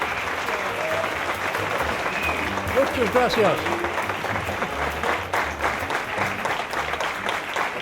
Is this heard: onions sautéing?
no